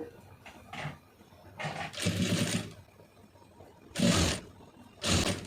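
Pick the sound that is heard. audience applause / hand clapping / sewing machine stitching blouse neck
sewing machine stitching blouse neck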